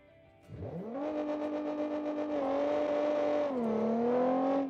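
A 1960s American sports car in Forza Horizon 5 starts and revs up, then holds a steady engine drone with a shift and a dip in pitch near the end, close and alone.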